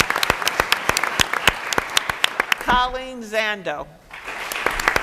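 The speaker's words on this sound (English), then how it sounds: "Let's give them all a round of applause." Audience applause at a Board of Education meeting, steady scattered clapping close by, broken midway by a voice reading a name before the clapping resumes.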